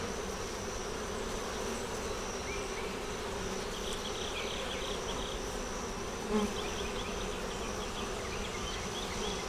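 Bees buzz densely and steadily around an open hive frame of brood, a continuous close drone with no break or talk.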